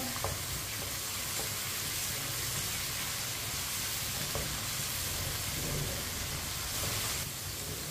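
Crushed ginger and garlic sizzle in hot oil in a pan while cooking aloo baingan, a steady close frying hiss with occasional faint stirring clicks.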